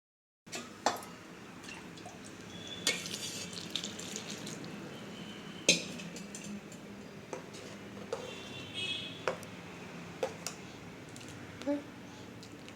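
Water is added to a pot of South Indian tomato soup, heard as scattered drips and small splashes over a quiet background with occasional light knocks.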